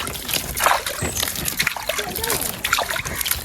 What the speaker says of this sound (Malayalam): പിന്നെ നമുക്ക് കുറച്ച് വെള്ളം ഒഴിക്കാം